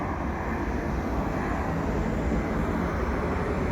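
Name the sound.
airplane flying overhead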